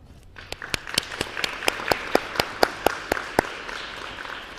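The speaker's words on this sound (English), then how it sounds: "I think you need to give yourselves a clap" Young schoolgirls clap at a prize-giving ceremony, a soft crowd patter carrying a train of distinct, evenly spaced sharp claps that ring out close to the mic before dying away.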